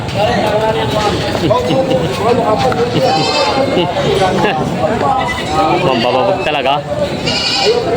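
Several goats bleat repeatedly in quavering cries amid a noisy crowd of people talking and shouting close by at a goat market in Padre Garcia, Batangas.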